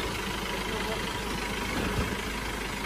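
A Mahindra Bolero 4x4 engine reversing in back gear on a landslide-damaged mountain road in Nepal, a steady loud idling rumble throughout, with nearby voices faintly present.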